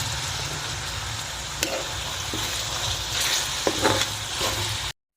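Garlic and onion sautéing in a pan for chicken barbecue, a steady close sizzle and hiss with a few scrapes of stirring, no talking.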